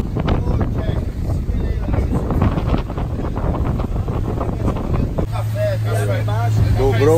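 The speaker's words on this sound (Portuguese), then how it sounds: "Dobrou o vento agora." Wind picking up on a sailboat at sea, a steady broadband roar buffeting the microphone throughout and growing stronger toward the end, with people talking over it.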